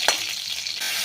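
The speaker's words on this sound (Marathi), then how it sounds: "त्याच्यामध्येच फोडणी करणार आहे मी" Crushed garlic and curry leaves drop into hot oil for a tempering in a drumstick-leaf soup, starting with a sharp loud crackle and settling into a steady close sizzle that brightens near the end.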